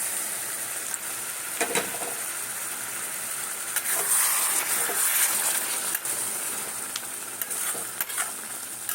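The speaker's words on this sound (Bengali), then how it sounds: "চিংড়ি মাছ দিলাম, যেটা চিংড়ি মাছ ভেজেছিলাম ওই জলটা দিয়ে দিচ্ছি।" Shrimp and banana flower curry sizzling and frying steadily in a pan, a close, continuous hiss with occasional stirring scrapes and pops.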